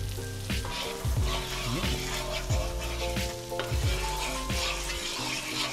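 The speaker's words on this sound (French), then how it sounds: "Et une fois que le beurre est fondu, on va faire suer les échalotes." Shallots sweating in melted butter in a pan during preparation of Bresse chicken, giving a steady close sizzle with occasional utensil scrapes and stirring.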